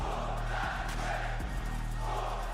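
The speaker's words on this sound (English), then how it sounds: "Listen to that crowd right now." A wrestling arena crowd at the Royal Rumble, a dense, sustained roar of cheering that fills the space, steady and loud throughout with a low electronic hum beneath it.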